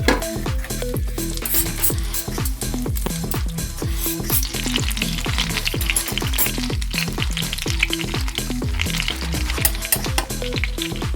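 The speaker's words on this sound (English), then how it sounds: "So my butter goes in first." Butter melting in a hot wok over medium heat, giving a dense, continuous crackling sizzle with quick popping spatters throughout, close and steady with no voices.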